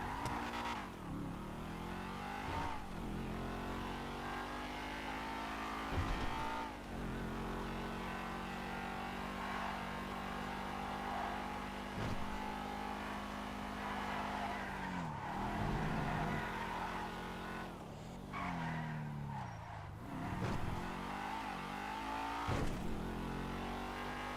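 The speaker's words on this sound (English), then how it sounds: "it's a two-seater sports car, and yeah, let's test drive this thing out" A Rapid GT two-seater sports car on a test drive, its engine revving and accelerating through repeated gear changes, with sweeping pitch rises and drops over a steady road rumble.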